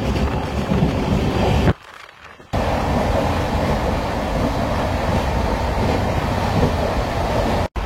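An Amrit Bharat Express runs fast past Khirai, its constant loud roar and rattle interrupted by a short muffled dip, then continuing steadily without any voices.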